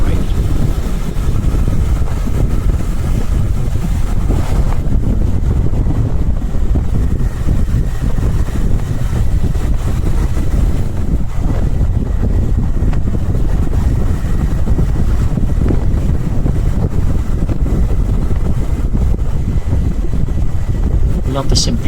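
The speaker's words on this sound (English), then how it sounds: "there's a massive hill which this bike will just travel up without any problems in top gear. It just keeps accelerating." A Royal Enfield Interceptor 650 motorcycle climbs a big hill in top gear, its engine a steady low drone mixed with heavy wind buffeting on the microphone, continuous and fairly loud throughout.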